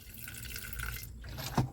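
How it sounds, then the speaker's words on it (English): Distilled water is poured into a container while recovering gold from old Yamaha organ contacts, a soft quiet trickle ending with a brief splashy drip. "So we pour another distilled water here."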